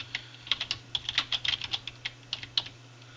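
Close computer keyboard typing while writing C++ code in a text editor, quick bursts of sharp key clicks in an uneven rhythm with short pauses and a low hum underneath, with no talk.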